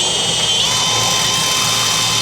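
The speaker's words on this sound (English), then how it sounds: "I'm using a step drill bit, which makes a nice rounder hole" A drill running a step drill bit through metal to make round holes for nutserts, a loud, steady high-pitched whine and grinding held continuously without pause.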